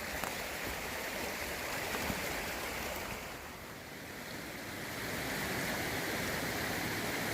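North Kill Creek near Shartlesville, Pennsylvania rushes along as a steady, broadband watery roar close by, dipping briefly in the middle and then swelling again, with no voices.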